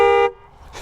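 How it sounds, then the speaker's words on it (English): A Honda F6B motorcycle horn gives one short, loud, close, truck-like blast that cuts off abruptly after a fraction of a second, followed by quiet. "Now listen to the horn. It's like a truck."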